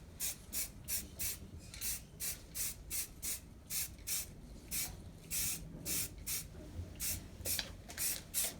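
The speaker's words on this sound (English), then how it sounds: "So I'm painting all the brick color and I'm doing all the backside first" Short bursts of spray paint applied in thin coats of brick color to an N scale model roundhouse, a steady rhythm of hissing puffs about a second apart, close up with no talking.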